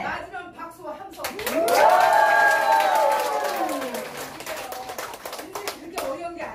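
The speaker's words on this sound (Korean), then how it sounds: "맞으면 박수와 함성!" A senior school audience bursts into clapping and cheering, with a loud rising swell of voices shouting together, then quick dense applause that gradually thins out near the end.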